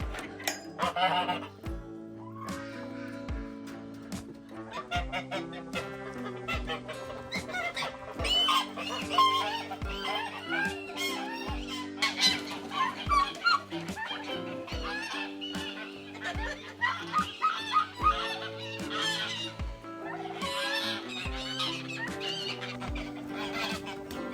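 Free-ranging chickens clucking in a yard, a busy overlapping flock chorus close by, with repeated soft low thumps in a steady rhythm beneath, no talking.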